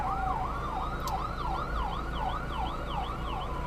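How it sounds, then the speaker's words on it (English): An ambulance siren wails in steady rising and falling cycles as it passes nearby on a road, loud and continuous with a faint echoing repeat, over low traffic rumble and no talk. "Ambulance coming through."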